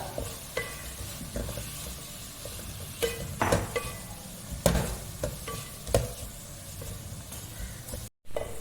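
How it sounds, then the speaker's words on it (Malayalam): Chopped garlic and two green chillies sauté in a hot pan, a continuous sizzle broken by scraping stirs and occasional sharp clinks of a spoon against the pan, close and fairly loud. "രണ്ട് പച്ചമുളക് ഇത് ഇതിലിടുന്നുണ്ട് നല്ലോണം വാട്ടുക"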